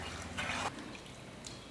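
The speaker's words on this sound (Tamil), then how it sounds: "இதில் 2 கப் அளவுக்கு தண்ணி ஊற்றிக்குவோம்." Water is poured into rice in a pot while brinjal rice is cooked, a short splashing gush followed by a faint trickle, close and fairly quiet.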